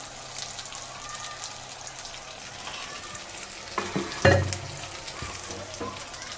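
Water is poured into turmeric, Kashmiri red chili and cumin powders frying for mutton curry, giving a low sizzle that flares into a sharp, loud hiss midway before settling back to steady frying.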